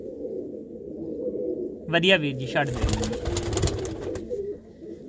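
Pet pigeons, young birds and a hen pigeon kept at a loft, coo and call close by while someone talks over them.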